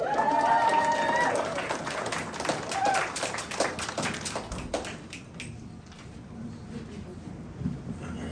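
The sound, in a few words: applause for the artist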